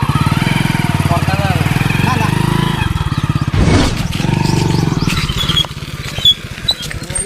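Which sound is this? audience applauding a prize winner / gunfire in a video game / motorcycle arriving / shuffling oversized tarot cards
motorcycle arriving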